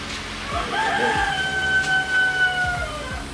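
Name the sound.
chicken clucking on a homestead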